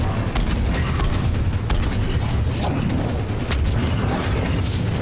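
Dense video-game combat plays with a continuous wash of gunfire and grenade blasts, loud and unbroken, the individual shots and booms merging into a steady rumble.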